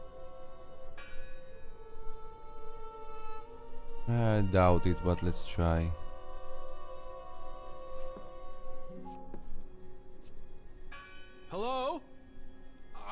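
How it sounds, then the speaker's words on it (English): A church bell rings inside the video game Draugen, in a few clear tonal strikes with long harmonic ringing, mixed with game ambience and a voice talking around it. "Listen! The bell!"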